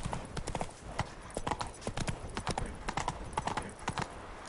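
Hooves of Roach, the horse in The Witcher 3, clatter in a fast galloping clip-clop rhythm throughout, loud and close, with game ambience and a faint voice in the background.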